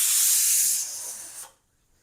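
Spices tempering in hot oil as a tadka poured over cooked saag, a loud close sizzling hiss that fades and cuts off after about a second and a half.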